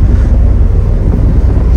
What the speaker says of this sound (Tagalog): Malakas ang hangin, malamig.